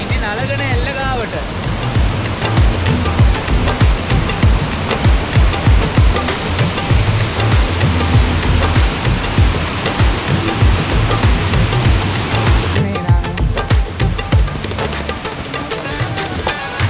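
Rushing water from Nalagana Ella waterfall in Sri Lanka, a steady broadband roar that runs throughout, with a voice speaking over it.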